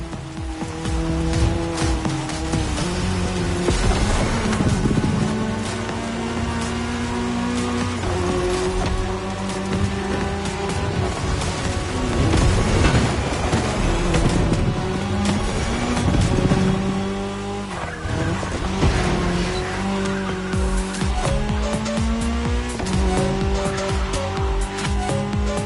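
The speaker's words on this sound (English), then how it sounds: "Now they have to adapt their driving to the tarmac. It's a cross-terrain race" Cars racing on tarmac in a cross-terrain video game race, with loud continuous engine roar, revving and shifting pitch, and tire squeal and skidding, all close up throughout.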